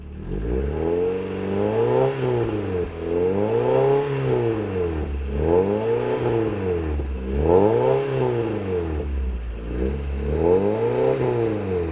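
A Mazda Miata engine with a stock exhaust and a new header revs repeatedly up to 4,000 rpm, rising and falling in pitch in regular cycles, loud and close, with no talking.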